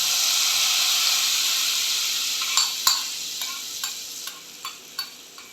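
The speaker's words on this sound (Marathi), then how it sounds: "ही लसणीची मस्तपैकी चुरचुरीची फोडणी करून घेतली आहे ती घालते" Garlic tempering hits a pan of thin Chandan Batwa vegetable curry, giving a steady, loud frying hiss with a few sharp crackles and pops near the end.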